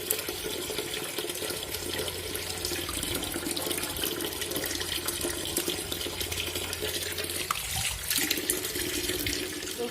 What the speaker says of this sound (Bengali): ওখানে মাছ আছে, মাছগুলো ভালো করে ধুয়ে নিই।